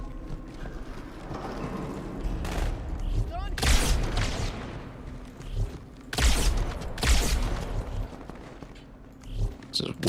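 Rapid bursts of gunfire in the Halo 2 campaign crack out in loud clusters over a rumbling game background, with several sharp volleys spread across the stretch.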